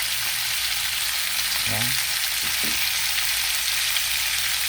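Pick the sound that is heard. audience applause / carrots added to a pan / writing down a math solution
carrots added to a pan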